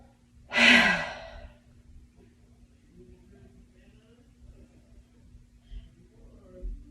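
Deep breath during a stretching exercise with arms reaching overhead and behind the head, one loud, close, breathy exhale followed by quiet, faint breathing.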